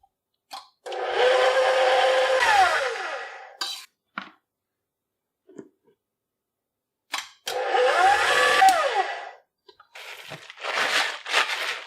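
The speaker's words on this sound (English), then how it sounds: "I'm going to get all of these ingredients mixed up in the stand mixer." Stand mixer whirring through healthy chocolate chip cookie dough in two long, loud runs of steady motor drone, with short clunks and pauses between and a final uneven burst near the end.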